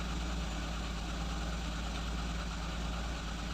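A Lada Kalina 1.6 engine idles unevenly with a misfire, giving a steady, close mechanical drone with a low vibrating hum and no voices.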